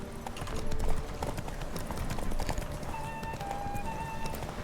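Horses gallop in a race in the video game The Witcher 3: a steady, dense clip-clop of hooves runs throughout, with occasional whinnies and snorts, loud and close, with light game sounds in the background.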